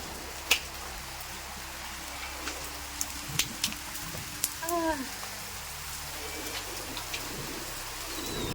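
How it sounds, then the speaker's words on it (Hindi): Rain begins to fall outdoors at a home: sparse, sharp drops tap a surface at scattered moments against a quiet background, and a brief bird chirp sounds midway. "देखा अचानक से बारिश आना स्टार्ट हो गई है।"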